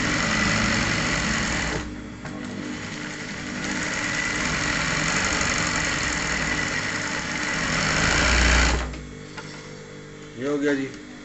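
A manual embroidery machine runs steadily in a continuous mechanical whir, loud and close, then stops abruptly near the end as a person starts speaking.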